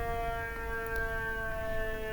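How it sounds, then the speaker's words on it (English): A loud siren wails outside with a steady tone that holds for the whole stretch, heard through a room while someone plays chess online. "Oh, that siren is really loud."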